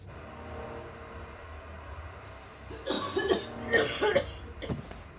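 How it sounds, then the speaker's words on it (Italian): Several harsh coughs burst out in a short cluster after a quiet stretch of low background noise, somewhat muffled and close by. "Tossiscono."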